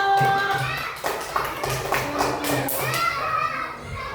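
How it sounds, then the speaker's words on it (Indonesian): Third-grade children in a classroom clap in scattered bursts amid lively kids' chatter and an adult voice, the claps close and uneven. "Iya, tepuk tangan dulu."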